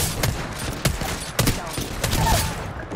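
Apex Legends gunfire: repeated sharp shots in clusters of bursts over a steady in-game background, fairly loud and close.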